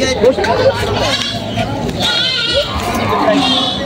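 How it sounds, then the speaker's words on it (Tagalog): Goats bleating repeatedly at a livestock market in Padre Garcia, Batangas, several calls rising out of crowd babble while people talk nearby. "Yan may kambing si Kagawad."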